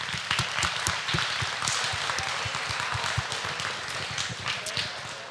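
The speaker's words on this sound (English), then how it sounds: "So we can give Jared a round of applause for all of his help." Sustained applause from a crowd in the show ring at a state fair swine show, steady clapping throughout with scattered louder claps near the front.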